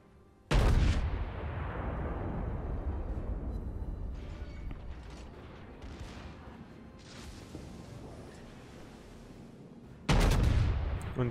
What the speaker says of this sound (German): Und jetzt die nächsten Schüsse.